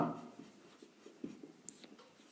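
Pen writing by hand during a Hindi-medium Class 10 math lesson on a sun's angle of elevation problem, giving faint, close scratchy strokes in short bursts with no talk.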